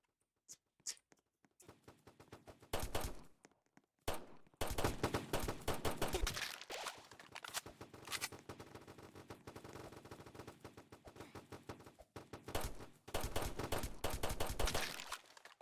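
Rapid bursts of pistol gunfire in a video game, crackling shots in quick repeated strings with short pauses between volleys, loud and close with no talk over them.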